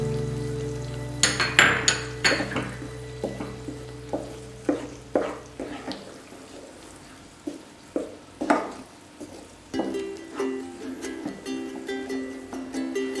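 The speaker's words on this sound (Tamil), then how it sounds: "எடுத்து வச்சிருக்கிற இந்த மிளகாத்தூள், தனியாத்தூள் அதெல்லாம் கூட கொட்டி நல்லா கிளறி விட்டுறணும்" Chilli and coriander powder are stirred into crab masala frying in a pan, with repeated close scraping and clinking strokes of a spoon over a steady sizzle that quiets partway through.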